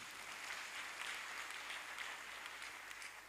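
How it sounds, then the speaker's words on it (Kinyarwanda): A church congregation applauding after a sermon, steady soft clapping heard at a distance with no break. "Dukomere Imana amashyi"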